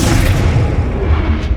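Arresto Momentum spell cast in Hogwarts Legacy, heard as a loud, sustained low booming rumble with a dense, roaring texture that holds steady throughout.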